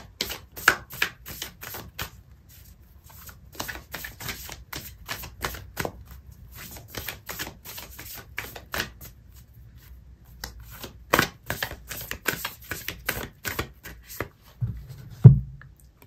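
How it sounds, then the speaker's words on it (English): An oracle card deck is shuffled by hand, giving a long run of quick, crisp riffling flutters and soft taps, close and steady, ending with a single card drawn and set down. "I'm going to pull out an oracle card for you"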